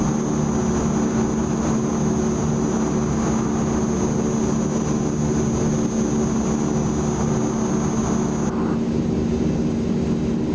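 Steady, loud drone of a Transall C-160R's twin turboprop engines in flight at 3,000 feet in MSFS 2024, an unbroken cockpit hum with a constant tonal whine and no talking.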